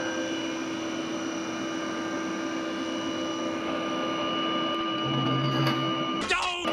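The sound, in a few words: CNC mill cutting a boring bar cutter profile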